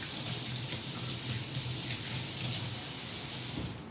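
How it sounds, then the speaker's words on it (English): A kitchen tap runs steadily for hand washing before bacon is prepared. The water makes a continuous hissing splash at moderate level, with no talk. "I need to wash my hands."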